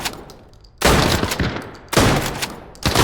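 Gunfire in the shooter game Arena Breakout Infinite as players trade shots with bots, with loud bursts of rapid, machine-gun-like fire arriving in two long volleys separated by a brief lull.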